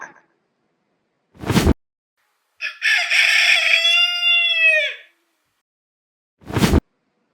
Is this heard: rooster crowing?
yes